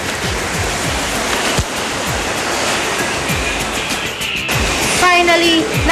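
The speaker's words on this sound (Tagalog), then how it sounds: "Finally, narating na rin namin ang Big Falls na kung tawagin ng mga igorot ay Bumodok Falls na may 100 feet ang taas." Bomod-ok Falls, a 100-foot waterfall also called Big Falls, roars as a loud, steady rush of falling water close by, with a brief voice rising over it near the end.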